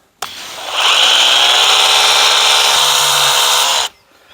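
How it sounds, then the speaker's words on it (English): A Ryobi EZCLEAN pressure washer sprays rinse water in one steady, loud hiss that runs for over three seconds and then cuts off sharply. "we're going to put it on rinse, and we're going to soak it down before we put our foam blaster on"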